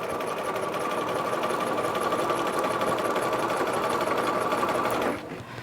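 A sewing machine runs a long basting stitch through fabric for gathering, a steady close mechanical whir for about five seconds that stops abruptly near the end.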